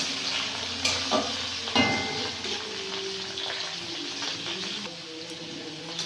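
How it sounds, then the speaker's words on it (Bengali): Sliced onions fry in a pan with cardamom and bay leaves for a village-style chicken curry, giving a steady close sizzle and the scrape and clatter of stirring, with no talking. "পেঁয়াজটা ভাজা ভাজা করে নেব।"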